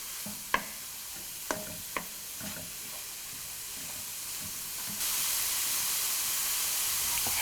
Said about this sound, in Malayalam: ഇപ്പോൾ 3 മിനിറ്റ് കഴിഞ്ഞ് നന്നായിട്ടൊന്ന് ഇളക്കി യോജിപ്പിക്കുക.